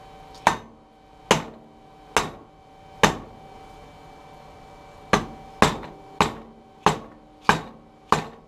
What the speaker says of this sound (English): Use one of these old bearings to tap on it.